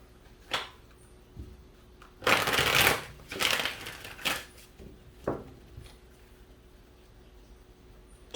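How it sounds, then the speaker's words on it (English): Oracle cards from a Crystal Mandala deck are shuffled by hand in a quiet room, a few short riffling bursts and soft card slaps spaced irregularly, close and fairly faint with no talking. "Four shuffles."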